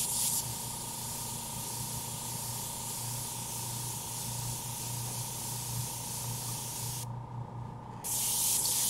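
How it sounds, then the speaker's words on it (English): An airbrush sprays alcohol ink for stencil painting, giving a steady close hiss that runs almost the whole time and drops out for about a second near the end. "I thought you said that your airbrush was sputtering."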